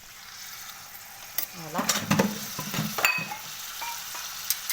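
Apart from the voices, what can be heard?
chicken frying with onion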